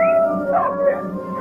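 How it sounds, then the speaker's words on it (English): A dog on a movie set gives a drawn-out howling whine that rises and wavers, close and fairly loud, lasting just over a second. "That dog's not part of the movie."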